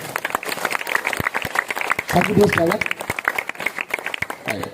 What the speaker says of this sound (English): Have a clap for him.